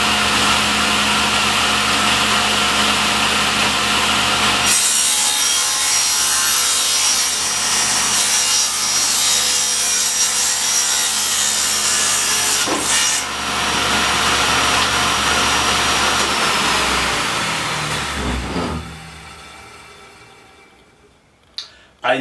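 A table saw rips wood to a 1.5 inch width: a loud, steady blade roar runs through most of the cut, then its pitch falls as the saw spins down near the end.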